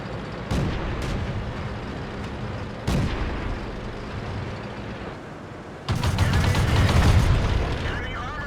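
Tank cannon fire and explosions in an online tank battle game, several loud booming shots spaced out with a heavier blast rolling through near the end, over game background rumble and voice chat.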